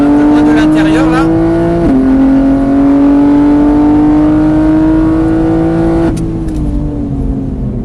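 A race car engine holds a loud, steady drone close by on a track, its pitch climbing gradually under light throttle with a brief dip at each shift.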